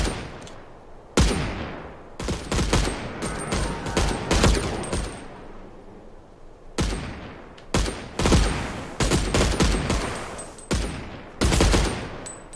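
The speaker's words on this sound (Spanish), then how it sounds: "Disparo cerca." Shooting video game gunfire in a sniper match: bursts of loud, sharp shots in rapid clusters, some overlapping like a fusillade, separated by short lulls, with bright pinging effects mixed in.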